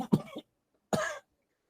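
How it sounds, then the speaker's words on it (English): Two dry, close coughs from a man, about a second apart, each short and sharp with silence between them. "Coughing too hard, dude."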